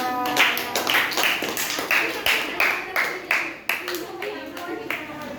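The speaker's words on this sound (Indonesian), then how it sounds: "Tepuk tangan buat kelompok 3" Classroom clapping for a student group after a presentation on emotions: uneven, close hand claps from a small group of children, with some talk mixed in.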